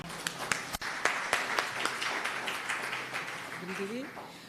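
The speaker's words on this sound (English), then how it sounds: "Let's give them a round of applause as they come" Applause from an audience at a mentors and volunteers appreciation cocktail event, a steady wash of many hands clapping throughout, with a few sharper claps standing out and a faint voice or tone near the end.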